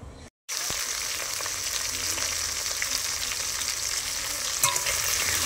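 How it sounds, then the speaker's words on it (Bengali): Thick pieces of fish frying in a pan at home, a loud continuous sizzle with a crackling hiss, heard close and alone after a brief silent gap at the start. "বন্ধুরা মাছ তো আমার ভাজা প্রায় হয়ে এসেছে।"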